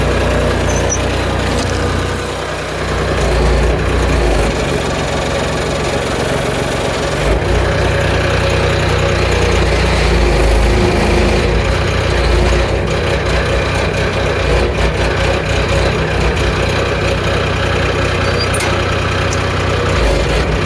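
A mechanical shovel's engine running steadily and idling, loud and continuous with a rough mechanical drone throughout.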